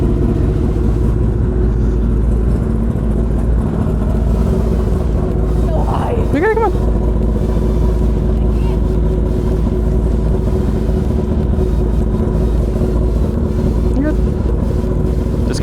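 A Kawasaki ZX10R motorcycle fitted with a new exhaust runs loud and close, a deep steady rumble filling the whole stretch, with a brief voice cutting in partway through.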